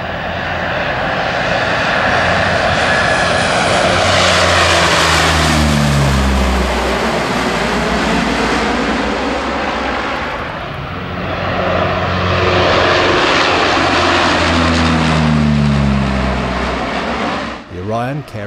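An RNZAF Orion maritime patrol aircraft's propeller engines roar loud and close, the drone swelling twice and fading as it passes, ending in a brief dip.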